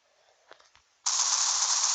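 Automatic gunfire in the mobile shooter game Critical Ops: about a second of near-quiet with a few soft clicks, then a sudden loud, dense, sustained burst of rapid shots running to the end.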